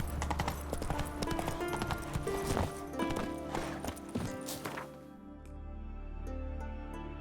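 Rapid rhythmic horse hoofbeats clip-clop over layered game music in The Witcher 3, then fade out, leaving a soft background hum.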